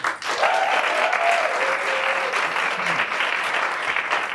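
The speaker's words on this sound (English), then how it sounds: "So a round of applause to Denisa." A crowd at a women-in-sales evening event breaks into loud, steady applause, continuous clapping holding strong for several seconds, with a faint voice briefly audible partway through.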